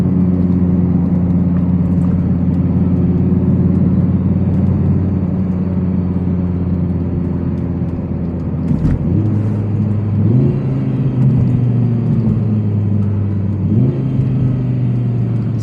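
A 2023 Audi R8 V10 Spyder's naturally aspirated V10 pulls hard under acceleration, a deep steady drone that climbs in pitch and drops sharply at several quick dual-clutch gear shifts, close and continuous.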